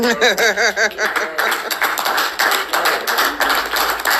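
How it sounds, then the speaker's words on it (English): An audience at a talk on the reparations movement breaks into clapping after a voice, scattered sharp claps building into a brief round, with some chuckling and talk mixed in. "So I think we should stop and have a hand clap."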